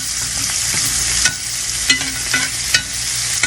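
Steak sizzles loudly in a pan with thyme and garlic piled on top while hot fat is basted over it, a dense close hiss broken by sharp spoon clinks and spatters, no voices.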